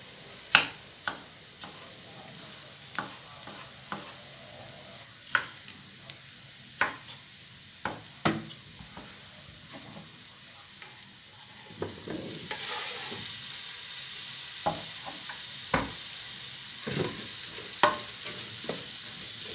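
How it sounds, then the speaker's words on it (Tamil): Ingredients for biryani are stirred and sautéed in a rice cooker, giving a steady close sizzle punctuated by repeated sharp scrapes and taps of a spoon against the pot, which briefly grows louder, with no voices. "அடி பிடிக்காமல் வதக்கி கொள்ளுங்க."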